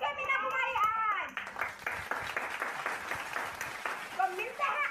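Scattered clapping from a small group greets a quiz winner, a few seconds of light applause with a voice speaking before it and a voice near the end.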